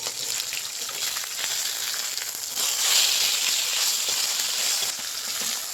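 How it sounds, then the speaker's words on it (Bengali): Fish frying in a pan on a home stove, a steady bright sizzle and crackle throughout that swells louder midway as pieces are turned, with no talk over it. "দেখি মাছ ভাজার এখানে এক পিট হয়ে গেছে আমি আর এক পিট উল্টে দিই"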